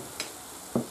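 Paprika goes into hot oil for Valencian baked rice, giving a soft steady sizzle with two brief stirring taps against the pan.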